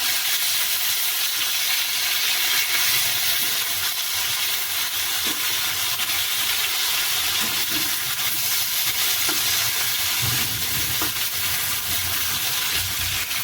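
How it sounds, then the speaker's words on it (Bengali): Pointed gourd (potol) slices frying in oil in a pan, a continuous loud hiss and sizzle close by with faint occasional clinks and no voices. "পটল ভাজা করে নিচ্ছি"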